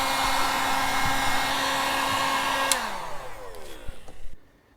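Heat gun blowing on a Tesla Model S headlight, a steady loud whirring hum that runs for a few seconds, then winds down with a falling tone, a click and some handling noise before silence.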